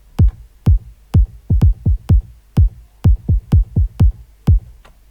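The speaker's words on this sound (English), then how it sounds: "I have actually added some sort of more groovier elements like this kick here" A punchy, groovy kick drum in an electronic track, hitting alone in a syncopated pattern of about a dozen deep, boomy thumps with clean gaps between them.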